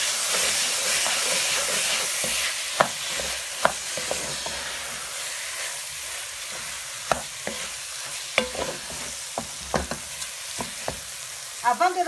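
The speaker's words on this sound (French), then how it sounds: "Je vais mélanger délicatement sans casser le riz." Rice is stirred gently in a hot pot for pilau, giving a steady soft sizzle and hiss broken by scattered light scrapes and taps of the spoon against the pot, with no talk.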